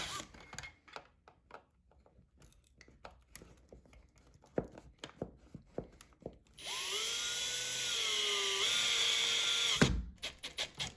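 Screws are driven into a window blind mounting bracket with a screwdriver: scattered close handling clicks and taps, then a sustained motor whine of about three seconds that shifts pitch slightly before cutting off abruptly.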